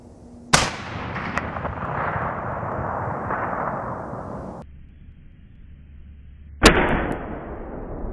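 A 6.5 Creedmoor Savage 12FV rifle fires outdoors, one sharp loud report followed by a long rolling echo that fades, then a second sharp crack near the end.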